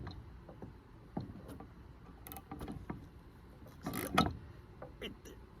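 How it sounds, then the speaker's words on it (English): A hand ratchet tightens a bolt during an air-conditioning install on a project truck, giving quiet, scattered metallic clicks and short ratcheting bursts in an otherwise still workspace, one louder cluster near the end. "The ratchet gets pretty tight there"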